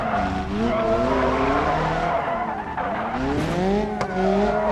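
A Swift car skids and slides down a steep hill in the driving game BeamNG Drive, with sustained wavering tire squeal over engine drone that stays loud and continuous throughout, no voices.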